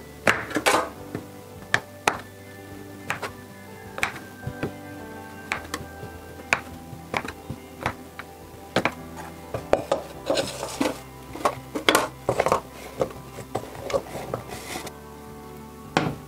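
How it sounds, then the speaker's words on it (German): Bar of soap roughly chopped into pieces with a cutter on a hard surface, giving a run of sharp, close knocks and clicks at an irregular rhythm, with occasional scraping between cuts and no talking. "Dann schneide ich die Seife grob in Stückchen, dann geht das Schmelzen leichter."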